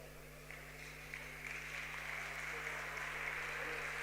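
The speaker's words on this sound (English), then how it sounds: "Applause from the fans at the back." Faint, distant applause from fans at the back of an EPFA Cup 2022 football match between Italy and Switzerland rises gradually over a steady low electrical hum.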